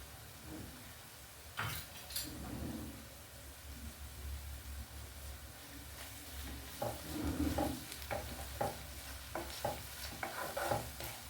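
Crushed garlic frying in a pan for a Kerala pidiyum kozhiyum dish: a soft, steady sizzle under intermittent scraping and stirring clatters, quiet and close.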